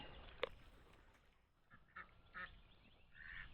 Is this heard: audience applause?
no